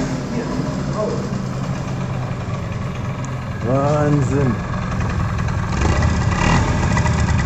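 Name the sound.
1988 Honda Vision AF22 scooter engine running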